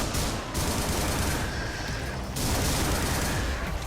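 Dense, continuous gunfire in the brutal action game Butcher, rapid overlapping shots blending with explosions into a loud, unbroken barrage with no pauses.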